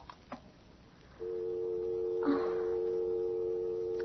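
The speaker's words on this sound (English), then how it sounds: "you'll phone Corey the second I hang up" A telephone in an old-time radio mystery drama: a steady, loud dial tone hums after the receiver lifts, with a brief click midway and no voices.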